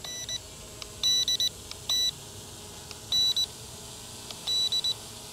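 An S-160 drone set to speed 1 gives a series of short electronic beeps in clusters, high and clear, spaced irregularly over a faint background hiss.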